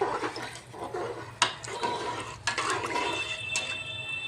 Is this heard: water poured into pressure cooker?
yes